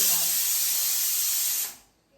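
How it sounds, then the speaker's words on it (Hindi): A kitchen pressure cooker, cooking black chickpeas, vents steam in a loud, steady, close hiss that cuts off sharply near the end, leaving quiet room tone. "अभी आई थिंक मैं कुकर बंद करूँ।"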